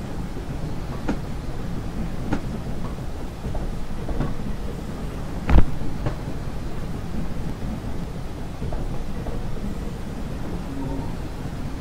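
A Stirling Single steam locomotive runs along the South Devon railway in the Train Simulator Classics game, producing a steady low rolling rumble with faint periodic clicks and one brief loud thump partway through.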